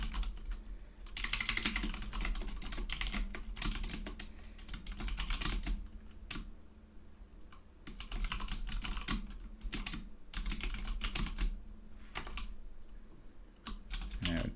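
Quiet close typing of code on a computer keyboard, irregular bursts of rapid key clicks separated by short pauses, with no speech over it.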